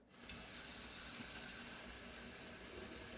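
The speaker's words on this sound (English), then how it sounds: "The tap is just running steady and filling it right up to the top." A steady stream of tap water runs into a container and fills it, a soft, even, continuous rush that starts abruptly and holds without pause, with no voices.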